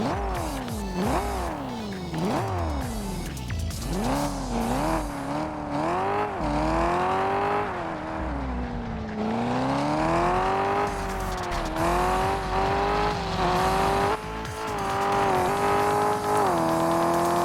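A car engine in the video game Car Parking Multiplayer revs up and down repeatedly, loud and close, with rising and falling pitch sweeps as it accelerates and shifts, running continuously with no talk.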